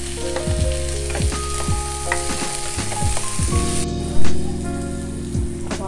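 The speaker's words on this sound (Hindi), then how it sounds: "और इसे भी हम थोड़ा सा भूनेंगे।" Diced bell pepper fries in a hot pan with onions for paneer bhurji, giving a steady, loud sizzle with stirring clinks and scrapes close by; no one talks.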